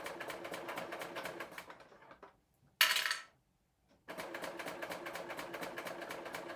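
A serger sewing machine stitches a sleeve hem in rapid, even bursts of mechanical chatter. It pauses briefly, a sharper clack follows, and then the steady stitching resumes.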